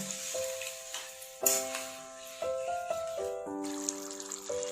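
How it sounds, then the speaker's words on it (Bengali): Duck egg curry gravy simmering in a pan over medium heat, a low steady sizzle and bubbling with occasional soft clinks and stirring, close and fairly quiet with no voices. "ঝোলটা ফুটে উঠেছে, মিডিয়াম আঁচে 2 মিনিট চাপা দিয়ে হতে দেব।"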